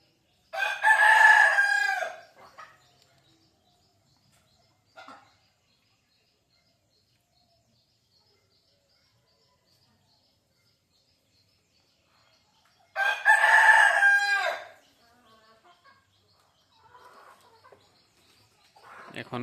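Domestic desi chickens kept at home, with a rooster giving two loud, close crows about twelve seconds apart, separated by near silence and a faint cluck or two, and a few quieter hen sounds trailing at the end.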